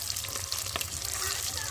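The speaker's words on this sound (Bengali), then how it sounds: "তো চলো ডিমগুলো ভেজে নিই" Eggs coated with salt and turmeric fry in hot oil with a steady, close sizzle that crackles and spits evenly throughout, with no voices.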